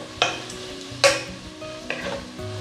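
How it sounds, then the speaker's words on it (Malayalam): Onion, ginger, garlic, green chilli and pepper sauté in a pan for chicken biryani, sizzling steadily up close while a spoon stirs and scrapes, with three distinct clinks against the metal. "ഇനി ഇതിൻ്റെ ഒരു പച്ച ടേസ്റ്റ് മാറുന്നത് വരെ നന്നായിട്ട് നമുക്കൊന്ന് വഴറ്റിയെടുക്കാം."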